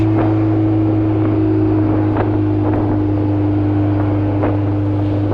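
A fully built Honda S2000 with a swapped K24 engine accelerating while driven, a steady loud droning engine tone with heavy wind and road rumble inside the cabin.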